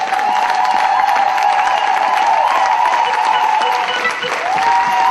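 A church congregation applauding loudly and continuously, dense sustained clapping with crowd noise and a few voices in it, close and full throughout.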